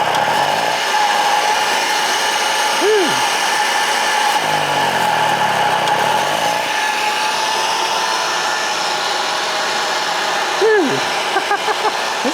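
An old, rusty houseboat generator engine runs steadily, loud and close, its continuous drone holding an even level throughout.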